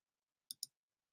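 Two quick, crisp mouse-button clicks in succession, close and clear against a silent background.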